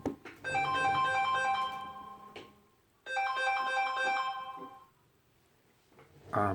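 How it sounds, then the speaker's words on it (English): A phone ringtone plays in a room during a coin collection recording, two long melodic bursts of the same tune separated by a short gap, with a third burst starting at the end, fairly clear and without talk. "I'm sorry about the phone call there."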